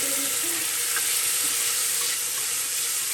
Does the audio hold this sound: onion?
yes